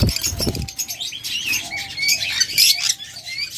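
An opaline pet bird pair flutters, with a burst of wing flaps at the start followed by bright, repeated chirps and twitters close by in a shop-like setting.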